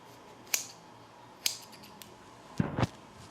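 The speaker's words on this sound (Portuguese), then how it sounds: "você vai remover o lastex e cortar esse excedente" Scissors snip off the excess hair at the tied end of a braid, giving four short, crisp cuts: two spaced single snips followed by a quick closing pair, close up in a quiet room.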